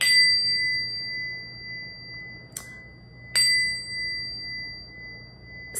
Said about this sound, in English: Another way to cleanse is actually with sound.